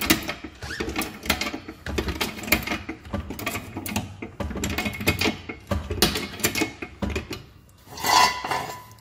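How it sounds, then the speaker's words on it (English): A car jack lifts a car at the sill with steady, close mechanical clicking and ratcheting that repeats rhythmically throughout, with scraping metal handling noises. "You can see he's on the sill, jacking it up."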